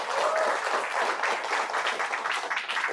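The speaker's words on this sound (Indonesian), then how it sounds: "Kita beri aplaus untuk Kang Dhani Abdul Ghani." An audience applauds at a business seminar, a dense, steady wash of many hands clapping that fills the whole moment without pause.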